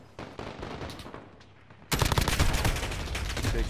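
Heavy gunfire in Call of Duty from an AX-50 rifle and other weapons, a quieter spell of shots suddenly giving way to a loud, sustained rapid barrage with little talking.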